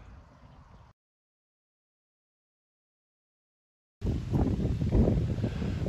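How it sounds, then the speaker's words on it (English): Wind gusting across an open outdoor building site on a sunny day in the south, a steady broadband rush in two stretches with a silent gap of about three seconds between them, louder and rougher in the second half. "So it's kind of windy"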